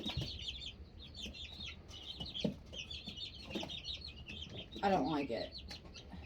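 Chickens cluck and chatter continuously in a chicken house, close and fairly loud, while a person speaks briefly nearby.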